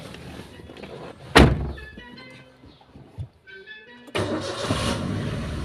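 A Maruti WagonR car is started by the mechanic working on its fan belt noise: a sharp thunk, a short starter crank, then the engine catches and settles into a steady close idle.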